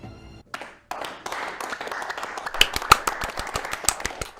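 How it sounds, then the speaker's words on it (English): An audience claps in a scene from the Thai series The Gifted, with dense, uneven hand claps that build from a scattered start into sharp, loud peaks and continue throughout. "Clapping must be a good sign."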